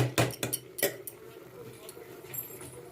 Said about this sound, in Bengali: এটাকে এবার আমি ঢাকা দিয়ে দিলাম